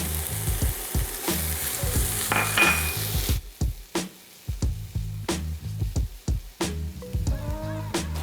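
Ginger garlic paste frying in a pan for Punjabi chana masala, a loud sizzle as it hits the hot oil, then rhythmic stirring scrapes and spatula knocks against the pan while the frying continues.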